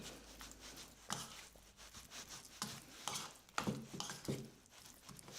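Cauliflower and pea mixture stirred in a pan, with soft irregular scraping and clinking strokes repeating over several seconds, faint and close, with no talking.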